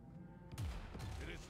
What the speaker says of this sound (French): Ah, c'est un tir de canon, d'accord.